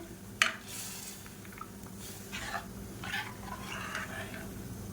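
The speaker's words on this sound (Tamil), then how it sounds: "சேர்த்துட்டு கலந்து விட்டுக்கலாம்" A spoon stirs kulambu, a Tamil curry with dissolved dal added, in a pot, giving a few sharp clinks against the metal followed by soft scraping and sloshing at moderate volume, with no voices.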